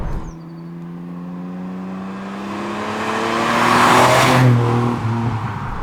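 A fuel-injected 2.8 litre V6 engine in a 1982 Ford Capri revs up close, its tone climbing steadily to a loud peak before easing back slightly.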